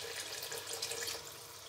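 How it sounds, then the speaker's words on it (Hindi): A cup of water is poured into a pan of green beans cooking with chicken, a steady, soft splashing rush heard close up with no talking. "तो 1 कप पानी का डाल लिया है,"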